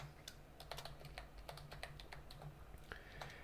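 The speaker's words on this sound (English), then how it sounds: "then I'm going to type in a password" Someone types a password on a computer keyboard: a quiet, close run of quick, uneven key taps that continues steadily, with no talking.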